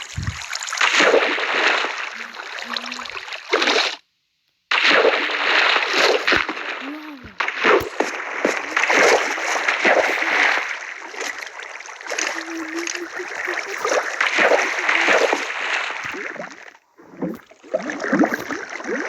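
Minecraft water splashing and sloshing continues almost without a break, loud and close, as a player moves through water in a survival game. The flow stops briefly a few times.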